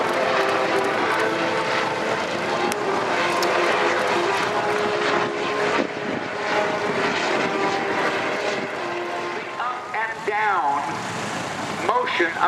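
A helicopter lands, its engine and rotor droning loudly and steadily throughout at an air show, with a faint voice over the noise and a brief whining pitch change near the end.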